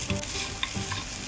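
Mawa and dry fruits stir-fried over a low flame, with a gentle continuous sizzle and scraping stir strokes close by, soft and without speech.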